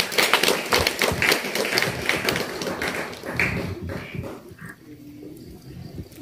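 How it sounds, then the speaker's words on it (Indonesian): An audience claps at a Hindu community gathering in Nganjuk, Indonesia, with loud, uneven clapping up close that gradually fades into a quieter room with murmurs and scattered sounds. "Tepuk tangan dulu."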